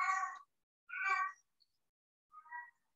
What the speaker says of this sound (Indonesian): Ada kucing saudara-saudara